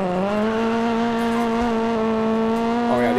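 A rally car engine in the WRC 9 video game holds a loud, steady, buzzing note with one clear shift in pitch near the start and a brief change just before the end.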